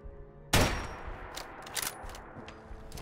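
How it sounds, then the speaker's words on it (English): A single loud modded hunting rifle shot in Fallout 4, a sharp close blast followed by a lingering echoing tail with a few faint rattles as it fades. "there's also an option for a new firing sound which I've installed,"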